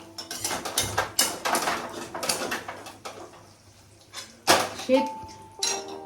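Fried paneer pieces, cut large, being lifted out and dropped into a bowl: a run of clinks and clatters of utensil against dish, with a few louder knocks near the end and a soft tone briefly in the background.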